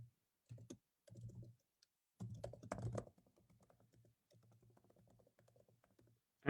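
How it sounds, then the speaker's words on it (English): Someone types a git push command on a computer keyboard, producing quiet close-up bursts of quick keystrokes with short pauses between them and a final louder key press. "And I type git push."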